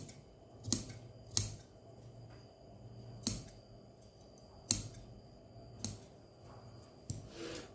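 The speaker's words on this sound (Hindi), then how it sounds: "एक्स्ट्रा कपड़ा कटिंग करने के बाद यहाँ पे लगाएंगे कट।" Scissors snip through velvet suit fabric in separate crisp cuts, about six sharp snips spaced roughly a second apart, close and fairly quiet against a faint background hum.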